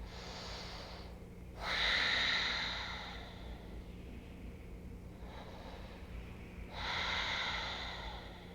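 Slow, deep breathing during a guided meditation, with two long, soft inhale-exhale cycles, each a gentle rushing breath rising and fading, heard close with no talk.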